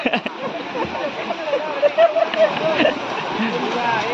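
Strong rushing water roars steadily and close, with splashing throughout while voices talk over it; the water is cold.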